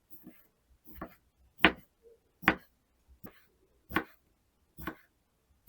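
Crisp knife chops slice a pickled cucumber into rings on a cutting board one at a time, about seven sharp cuts in an unhurried, fairly regular rhythm with quiet gaps between.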